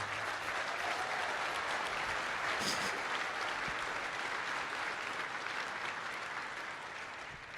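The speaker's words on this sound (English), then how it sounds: "She needs a round of applause." Sustained applause from the audience at an awards ceremony for the 2024 World Livestock Auctioneer Championship, greeting the speaker's wife, a dense steady wash of clapping that tapers slightly near the end.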